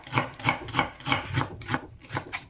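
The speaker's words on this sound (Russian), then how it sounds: "режу лук репчатый" A knife chops yellow onion very finely on a board as filling for Korean rice dumplings, giving a steady run of crisp, close cutting strokes about three per second.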